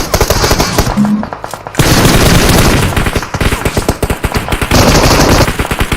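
Automatic gunfire from the mobile game PUBG Mobile comes in rapid, loud bursts that run almost without pause, with brief gaps between volleys.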